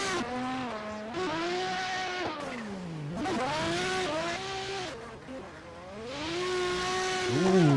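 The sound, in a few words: Nissan S15 drift car engine and tires in a virtual drifting sim game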